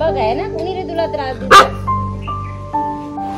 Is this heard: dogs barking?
yes